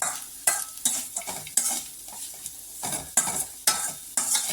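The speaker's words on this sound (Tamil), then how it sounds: "ஸோ நல்லா இப்படி வணக்கி விட்டுக்கிட்டே இருக்கலாம்" Coconut rice being stirred and turned in a hot pan, with repeated scraping strokes of a spatula over a light sizzle, steady and close, no voices.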